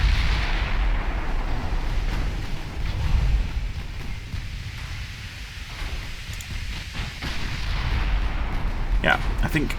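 Warship guns fire in the naval battle game Ultimate Admiral Dreadnoughts: main guns on the South Carolina and secondary guns on the South Dakota. Heavy booming blasts roll together with a windy rumble, loud and continuous, and a voice is heard briefly.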